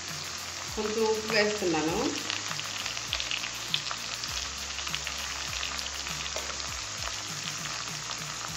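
Half a kilo of chicken fries in a pan with a steady hiss and sizzle throughout, a voice speaking briefly near the start while soft scraping knocks repeat in the background.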